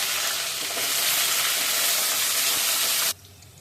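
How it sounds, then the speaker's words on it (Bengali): Potatoes rubbed with salt and turmeric drop into hot oil in a wok and fry with a loud, hissing sizzle and bubbling crackle that runs on strongly, then cuts off sharply near the end. "আলুতে একটু নুন আর হলুদ মেখে কড়াইতে ছেড়ে দেবো। আলু ভাজা হোক।"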